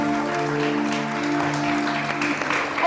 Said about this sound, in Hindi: क्या बात है, बहुत सारी तालियां।